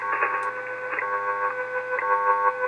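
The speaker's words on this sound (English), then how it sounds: "if I tune off, you can hear the tones beating" WWV time signal tones received on an Icom IC-7300 transceiver, tuned slightly off frequency so the steady tones beat with a slow pulsing throb, heard alone without talk.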